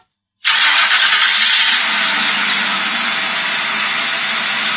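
A car engine cranks and catches with a sudden loud start, then settles into a steady, strong idle that runs on alone without any talk.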